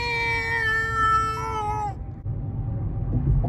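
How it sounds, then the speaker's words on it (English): Critter the cat lets out one long, drawn-out, wavering meow, loud and close, that ends abruptly, followed by low background rumble. "Critter the cat."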